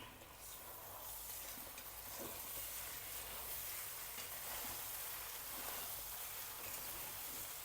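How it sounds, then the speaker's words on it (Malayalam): Cooked rice mixed and stirred in a hot frying pan, a steady soft sizzle with faint scraping of the spoon throughout, quiet and without speech. "ചോറ് ഇതിനകത്ത് ഇട്ട് കൊടുക്കേ. ഇതൊന്ന് മിക്സ് ചെയ്യാം."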